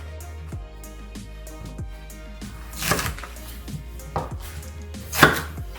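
A knife chops a radish into quarters on a cutting board while a sea bream broth is being prepared: several sharp, separate chops at an uneven pace, close by, with quiet kitchen background and no speech.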